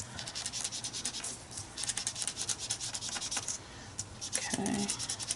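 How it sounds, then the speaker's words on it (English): Edges of a craft piece being distressed by scraping, giving a steady, close rubbing and scratching texture that runs throughout with brief pauses, with no talk over it. "I'm just kind of distressing the edges a little bit"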